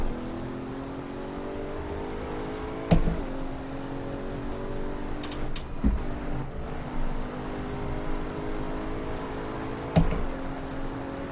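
At Monza in Assetto Corsa, a racing car's engine revs hard through climbing and falling pitch sweeps, with sharp clicks of gear changes at intervals and a steady mechanical drone beneath.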